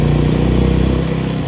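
A Royal Enfield Bullet motorcycle engine runs close and loud, a steady low thumping idle with no break and no voices.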